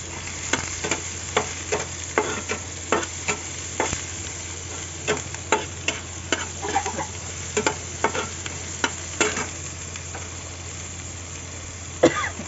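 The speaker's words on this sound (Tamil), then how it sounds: "நல்லா வதக்கி இந்த வெங்காயத்து கூடயே" Onions sautéing with salt in a pan for a karamani poriyal, a low background sizzle with repeated scraping and tapping strokes of a spoon stirring at an irregular pace.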